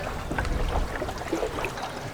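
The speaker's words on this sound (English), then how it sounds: "With our new electric engine." A tender boat driven by a new electric engine moves across the water off Martinique, a soft steady hum blended with splashing and rushing water, fairly close and even throughout.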